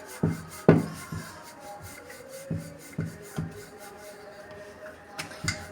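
Maida dough for a paneer kathi roll is rolled out thin with a rolling pin, giving soft rubbing strokes and a few light wooden knocks at close range, with no talking.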